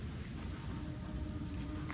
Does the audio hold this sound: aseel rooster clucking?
no